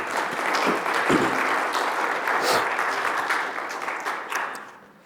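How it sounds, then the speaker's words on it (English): Church congregation applauding the volunteers' decorations at a Christmas Eve service, a steady wash of clapping that holds strong for several seconds and thins out toward the end. "Let's give a round of applause and acknowledgement"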